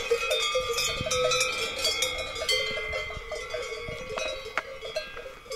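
Many cowbells clank and ring in a busy, overlapping jangle from a large cattle herd passing on an Alpine trail in Italy, steady and fairly close, with occasional louder clanks.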